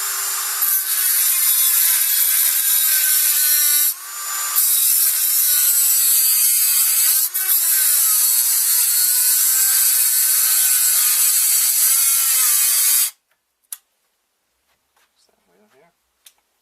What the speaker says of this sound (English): So I've got this Dremel here with a cutting wheel. I'm going to go ahead and chop these off.